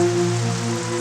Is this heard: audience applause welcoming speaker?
no